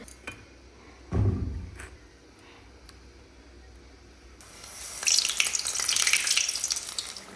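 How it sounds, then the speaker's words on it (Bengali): Green chillies frying in a hot pan at home: a dull knock, then a loud steady sizzle bursting up and continuing to the end. "এবার তাহলে ওই লঙ্কাগুলো ভেজে নিই গরম গরম খাওয়া হবে"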